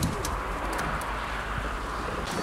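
Pigeons gathering on a rooftop coo softly and steadily, with faint chirps over a constant background hiss and a little wind.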